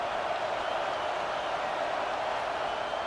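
A football stadium crowd at a Miami vs. Virginia Tech college game, cheering and clapping in a steady, dense roar with no breaks or individual voices standing out.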